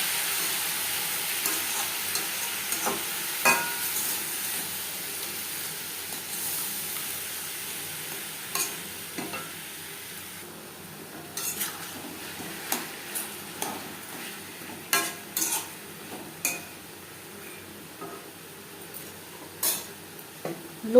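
Raw mango pieces fry with cane jaggery in a pan, giving a low steady sizzle under intermittent scraping and clinking of a spoon stirring against the metal, the taps growing more frequent toward the end.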